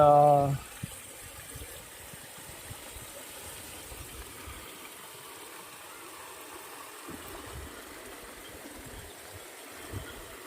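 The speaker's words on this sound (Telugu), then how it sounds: "వర్షం చాలా ఫుల్గా పడింది బ్రో" Heavy rain pours down in a village with water running, a steady, dense hiss that fills the whole stretch after a brief louder burst at the start.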